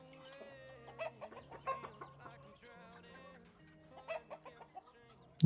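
Chickens cluck on a chicken farm in the village-building game Ostriv, with scattered soft clucks and squawks repeating irregularly over a quiet ambient backdrop.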